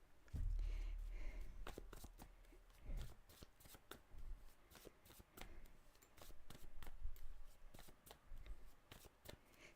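Cards are shuffled repeatedly for a tarot-style reading, with a steady run of quick, crisp riffling snaps close up. A few soft thumps sit underneath, and no voice is heard.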